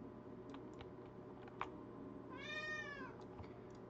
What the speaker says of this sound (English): when the cat starts screaming, I'm probably gonna have to get off.